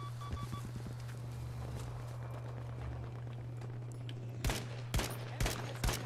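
Sporadic gunshots in Battlefield 5, quiet distant pops early on giving way to a handful of sharp, closer shots near the end, over a low steady hum.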